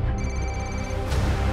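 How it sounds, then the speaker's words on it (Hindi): A telephone rings indoors with a single sustained electronic tone over a steady background of music and room noise. "किसका फोन है?"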